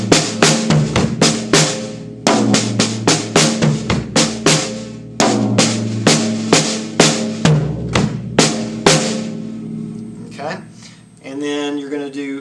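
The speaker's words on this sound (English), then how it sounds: "Then there's a floor tom, then a bass drum, and then a left-right on the snare." A rapid drum fill rolls across toms, snare and bass drum in repeated groups, loud and close, with brief pauses between phrases and a voice entering near the end.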